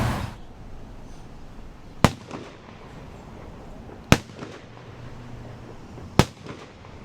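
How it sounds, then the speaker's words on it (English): A police firing detail fires a rifle volley at a police memorial ceremony outdoors. Three sharp, loud cracks come about two seconds apart, each ringing out over a low outdoor background with no talk. "have the firing detail fire a volley in honor of our departed comrades"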